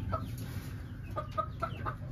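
A mosaic hen in a laying box gives several short, close clucks in an uneven rhythm over a low background hum, with no talk.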